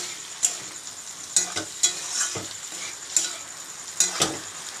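Spice paste with Kashmiri chili powder fries in a pan for a potato and pointed gourd dish, steady sizzling broken by repeated sharp scraping stirs, no speech.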